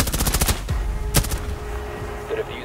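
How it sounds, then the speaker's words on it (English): Gunfire in Rainbow Six Siege shoots through a wall during a bomb round, heard as a fast burst of close shots, then a single loud crack and fainter clatter afterward. "Just shoot through the wall."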